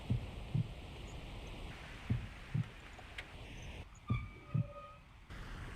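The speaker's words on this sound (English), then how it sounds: "How do you like the heartbeats?" Heartbeat sound effect in the Tomb Raider action adventure DVD game, three pairs of deep thumping beats evenly spaced over a low hum, with faint game tones in between.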